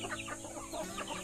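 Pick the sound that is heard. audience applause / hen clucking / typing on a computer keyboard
hen clucking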